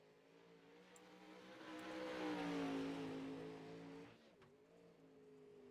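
A dirt race car engine in the SESRA Dirt racing video game drones steadily on track, building to a louder rev peak midway, dipping briefly, then holding a steady pitch; no talking.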